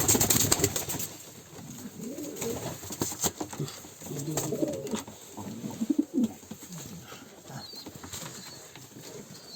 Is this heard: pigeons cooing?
yes